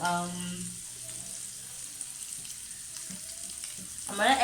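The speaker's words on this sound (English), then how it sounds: "while my beef is my meat is frying like this" Steady, close sizzling of beef frying in a hot pan, a continuous crackling hiss, with a voice speaking briefly at the start and end.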